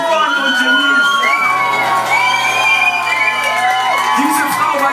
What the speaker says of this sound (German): einen großen Applaus für unsere Bühnentänzerinnen